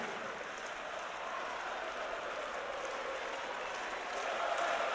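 Arena crowd cheering and applauding at a Counter-Strike esports final on Mirage at the Blast Pro Series, a dense, steady roar of clapping and shouting that holds loud and unbroken throughout.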